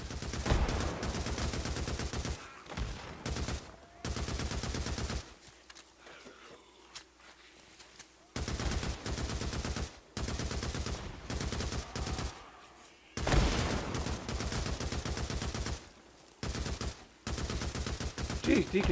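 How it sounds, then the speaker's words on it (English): Loud bursts of rapid gunfire come in repeated volleys, separated by brief quieter pauses, close and sustained throughout. "Geez, Deek, can you see anything through all that gunfire?"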